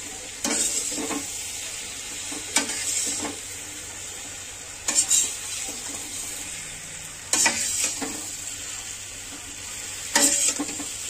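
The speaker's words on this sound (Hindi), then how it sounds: "अच्छे से मिक्स करना है अच्छे से फ्राई करना होता है ताकि मसाला समेत मिल जाए" Fare dumplings fry in masala in a pan with a steady sizzle. A spoon stirs and scrapes at regular intervals, about every two and a half seconds. The sound is close and nobody speaks.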